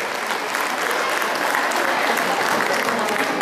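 A loud, continuous round of hand clapping fills a farewell gathering for the Numaligarh oil refinery's general manager, a steady dense applause from many audience members without a break.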